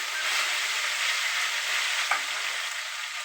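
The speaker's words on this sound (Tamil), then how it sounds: "இஞ்சி பூண்டு பேஸ்ட்டு போட்டு நல்லா வதக்கிக்கிறோம்" Curry leaves and coriander sizzle steadily in hot oil in a pan, a loud continuous frying hiss with a brief stir or clatter near the end.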